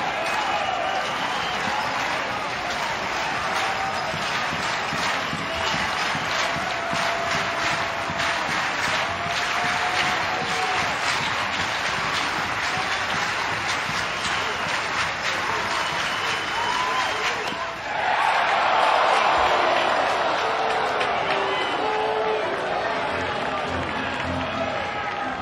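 Baseball stadium crowd at an NCAA tournament game between Mississippi State and Miami roars steadily through a late-inning at-bat, loud sustained cheering and clapping that swells briefly near the end.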